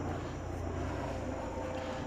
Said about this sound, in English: Got a helicopter coming overhead to take a look.